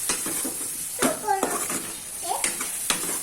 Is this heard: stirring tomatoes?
yes